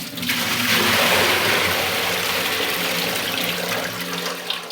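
Dirty water left from washing spinach is poured out of a pot in one long gushing splash that swells quickly and then tails off, loud and close.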